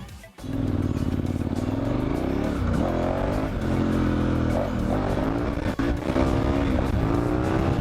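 A dual sport motorcycle on Dunlop TrailMax Mission tires rides along the road, its engine note rising and falling through throttle changes, loud and close with steady wind and road noise.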